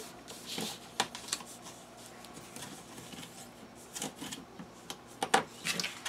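Paper being folded for a daily organizer, soft close rustling and crinkling with a few sharper creases and taps, quiet and intermittent.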